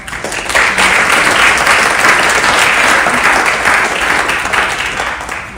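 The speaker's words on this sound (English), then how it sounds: "Thank you for giving your round of applause." Sustained applause from a ceremony audience after a musical performance, rising suddenly to a steady dense roar of many hands and holding evenly before easing slightly at the end.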